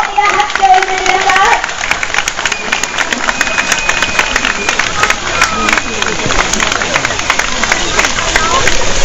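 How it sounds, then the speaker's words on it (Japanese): Dense, continuous audience applause fills the open-air Otori festival in Konosu, a thick wash of many hands clapping at close range that never breaks, with a voice over a public address speaking through it. "皆様大きな拍手を送って"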